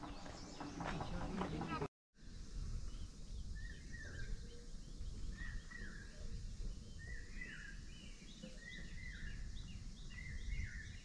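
On a mountain trek up Kalavantin Durg in the Sahyadri hills, a bird gives short repeated calls at a steady pace over low ambient hiss. A brief voice sounds at the very start.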